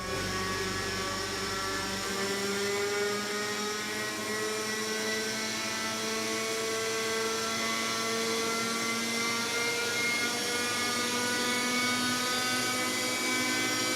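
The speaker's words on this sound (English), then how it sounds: "soon returns with his own model chopper" A small model helicopter hovers nearby with a steady high-pitched rotor and motor whine, holding a constant buzzing drone throughout.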